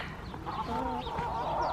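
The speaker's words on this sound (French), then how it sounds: "Elles sont rigolotes ces poules." Farm chickens clucking and murmuring close by, soft overlapping calls with a steady background, no talk over them.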